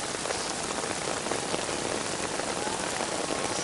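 Steady rain pattering on surfaces at an outdoor jazz festival at Jozenji in Sendai, a dense, even hiss of drops that holds for several seconds with no talk.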